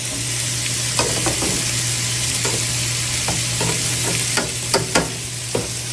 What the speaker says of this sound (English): Always make sure whatever you're cooking, you give your cauliflower a nice stir